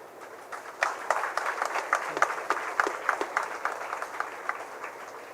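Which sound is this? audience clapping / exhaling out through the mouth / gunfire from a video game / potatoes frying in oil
audience clapping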